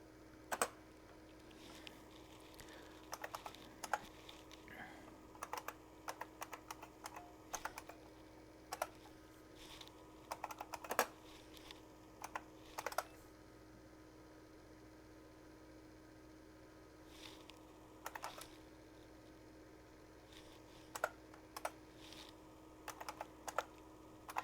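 Keys clatter on an IBM PS/2 Model 50 computer keyboard in irregular bursts of clicks, close and fairly quiet over a steady mains hum, with pauses between flurries and no talking.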